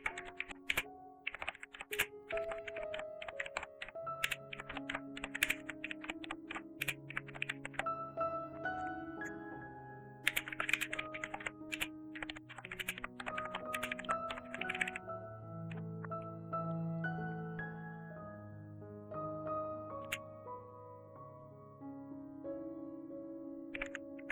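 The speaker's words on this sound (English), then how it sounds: "I'm just typing here good words." Typing on a computer keyboard while writing a blog website, a steady run of quick, close key clicks with uneven bursts and pauses, heard alone over faint tonal background music.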